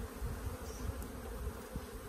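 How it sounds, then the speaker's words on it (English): Honey bees buzzing at an open hive with bees in the honey super, a low, continuous droning hum from many insects nearby, quiet but steady, with no talking. "There is bees in the super"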